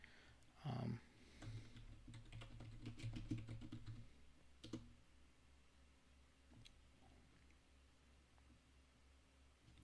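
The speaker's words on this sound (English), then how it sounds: "I'm typing them in the chat right now." Faint, scattered clicks of typing on a computer keyboard, in short bursts, with a low hum and a brief thump early on.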